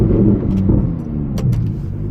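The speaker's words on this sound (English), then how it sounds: "Just got a little more engine noise in the cabin." A Lamborghini Huracan Evo Spyder engine heard from inside the cabin while driving, a loud, deep, steady rumble with a slight dip in the middle and no voices.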